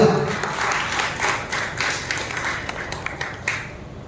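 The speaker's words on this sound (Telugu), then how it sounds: "చప్పట్లు కొట్టి మన ప్రభువు రాయపరచారు" A church congregation at a united worship service clapping hands in praise, a dense burst of many hands in rapid rhythmic applause that carries on and slowly thins.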